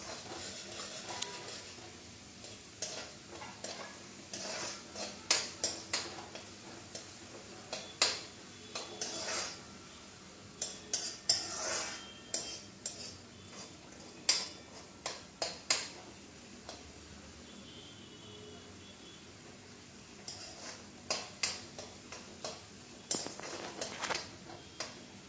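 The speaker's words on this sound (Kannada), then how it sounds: "ಫ್ರೈ ಆಗ್ತಾ ಇದೆ." Food frying and being stirred in a pan during a live cooking session, with frequent clinks and scrapes of a utensil against metal over a steady soft sizzle, close by with no talking.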